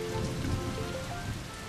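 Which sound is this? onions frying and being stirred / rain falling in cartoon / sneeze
rain falling in cartoon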